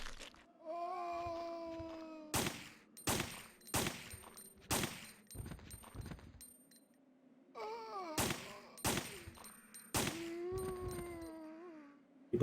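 Gunfire in Resident Evil 3: Nemesis rings out as about eight sharp, loud shots in two bursts, with drawn-out moaning groans wavering between them.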